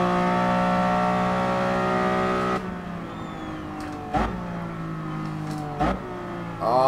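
An 800hp Aston Martin concept car in GT Sport, its engine droning at a steady high pitch and then dropping off, with sharp shifts and revs marking each change of pitch as the car accelerates again.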